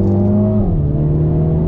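A 2020 Mini JCW Clubman engine under throttle, a loud, close, steady harmonic drone whose pitch dips briefly as if through a gear change, then holds.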